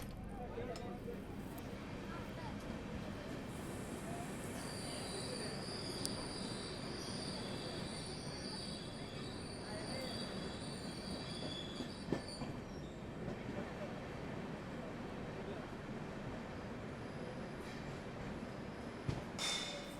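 The Mysuru–Varanasi train rolls slowly into Tumakuru station, a continuous low rumble of wagons with a thin high wheel squeal sustained through the middle, heard from aboard the train at a steady, fairly quiet level.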